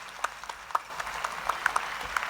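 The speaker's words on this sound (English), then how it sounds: "Please give them all a big round of applause." Soft applause from an audience at a debate event honoring jury members, a faint continuous patter with a few louder individual claps standing out.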